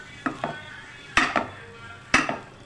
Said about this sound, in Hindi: थोड़ा सा मैं इसमें डाल के जल्दी जल्दी से इसको मिक्स कर दूँगी